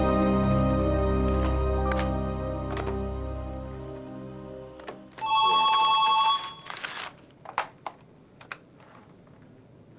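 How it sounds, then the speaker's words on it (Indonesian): Telephone bell rings loudly several times in long sustained trills, then stops, followed by a shorter electronic ring and a few scattered clicks and knocks in a quiet room. "Man, ada telepon buat kamu"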